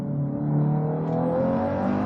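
Steady engine note from a 2022-2023 Subaru WRX held at moderate revs, rising slightly in pitch partway through, with no talk and no pauses for the whole stretch.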